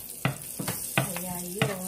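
Garlic sizzles and fries in a pan while being stirred, a steady close crackle broken by four or five quick scraping strokes.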